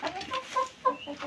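Hens in a coop give short, close clucks in a quick, uneven run of a few calls.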